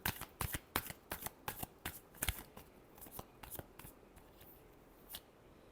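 Tarot cards shuffled by hand in a quick series of crisp, close riffling flicks that start dense and thin out toward the end, with no talking.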